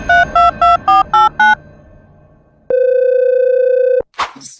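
A phone dials a number with six quick keypad beeps in a row, then after a short pause a steady single tone holds for over a second before cutting off, followed by a brief rustle.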